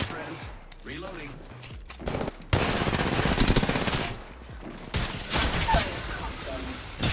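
Rapid bursts of automatic gunfire from an online shooter video game, loud and close, arriving in dense sustained volleys with short pauses between them, with a voice speaking in the gaps.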